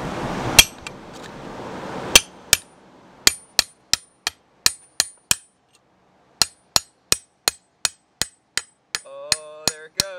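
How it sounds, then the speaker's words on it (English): A hammer smacks a pry tool into the door of an abandoned safe in a steady series of sharp, ringing metallic strikes, about a dozen evenly spaced blows, close and loud, with a brief scraping rattle near the end. "I'm gonna use the hammer to smack it in like this."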